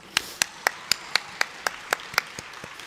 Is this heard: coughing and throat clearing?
no